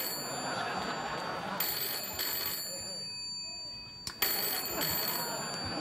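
A telephone rings on a late-night talk show set, bright repeated electronic ring bursts starting and stopping with short gaps, loud and close against a faint background.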